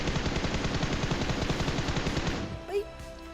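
Rapid automatic gunfire in the BGMI mobile battle royale game rattles in a dense, continuous burst for over two seconds, then cuts off to quieter game ambience with a brief chirp.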